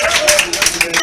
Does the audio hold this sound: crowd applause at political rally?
yes